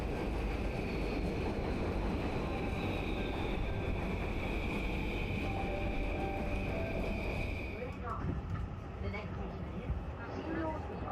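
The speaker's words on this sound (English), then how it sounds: "a Yamanote Line train arrives at the platform" A Yamanote Line train pulls into a Tokyo station platform with a steady, moderately quiet rolling rush and a thin high whine that cuts off as it comes to a stop.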